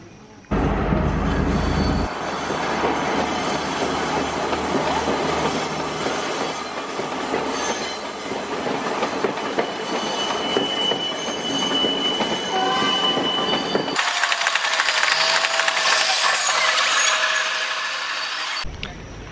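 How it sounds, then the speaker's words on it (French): A train crosses the Nine Arch Bridge in Ella, Sri Lanka, rumbling steadily with rhythmic wheel clatter and metallic squeals, its horn sounding, loud and continuous as it passes close by. "Le train vient de passer finalement"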